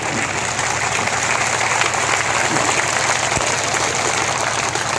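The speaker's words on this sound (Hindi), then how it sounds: "जोरदार ताली बजा के स्वागत करिए" A large crowd at an outdoor public political meeting in Khetabpur Kasimabad claps loudly and continuously, a dense, even roar of many hands with no speech over it.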